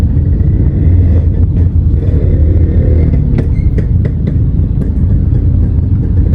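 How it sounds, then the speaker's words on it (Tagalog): Heavy town traffic in the Philippines fills the scene with a loud, continuous rumble of many engines close by, broken by a few sharp clicks and knocks. "Dami po ng mga sasakyan."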